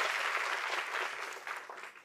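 Audience applause for a band in a TV variety show studio, a steady dense wash of many hands clapping that slowly thins toward the end, with no voices over it.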